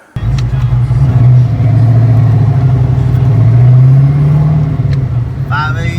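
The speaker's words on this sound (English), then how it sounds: "I'm driving her to work" A car engine and road noise drone steadily and loudly from inside the vehicle as it is driven with the heater running, with a voice heard briefly near the end.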